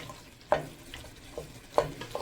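Spinach and mutton for palak gosht stir-fry in a pot, a soft sizzle under two distinct scraping stirs of the spoon, close and moderately loud, with no voices.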